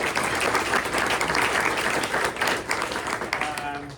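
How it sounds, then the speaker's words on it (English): An audience at a press luncheon applauds a sponsor with steady, dense clapping that fills the room, tapering slightly toward the end. "Let's give Scott a round of applause."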